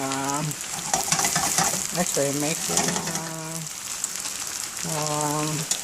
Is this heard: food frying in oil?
yes